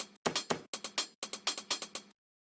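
A drum rack of chopped vinyl drum break hits fires off a quick run of punchy, crackly kick and snare slices in uneven clusters, close and dry, then stops.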